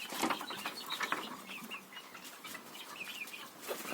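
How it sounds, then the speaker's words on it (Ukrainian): Chicks peep in quick, high chirps over soft clucking from nearby hens, a busy overlapping chatter of poultry with no pauses. "Курчатка побачили біжать уже."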